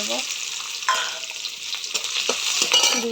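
Garlic sizzles and fries in hot oil in a home kitchen while being stirred, a close, bright crackle broken by scraping stirs.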